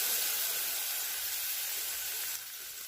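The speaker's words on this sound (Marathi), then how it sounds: "तेलामध्ये आता हे हिरवी मिरची आणि लसूण कुटून घेतलेला ते टाकायचं." Crushed green chili and garlic sauté in hot oil, giving a soft, steady sizzling hiss that eases slightly toward the end.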